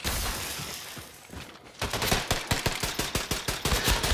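Pistol gunfire in the Wolfenstein II video game rings out as a rapid string of loud, sharp shots after a quieter start, cracking in close succession without speech.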